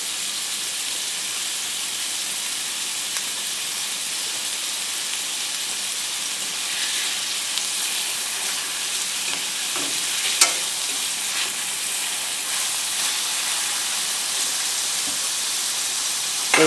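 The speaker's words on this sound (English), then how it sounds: "Just want to give them a decent sear on either side. So while that's searing" Steaks searing in a hot cast iron pan for Steak Diane, a loud, continuous broadband sizzle that holds steady throughout with only faint pops and spatters, no voices.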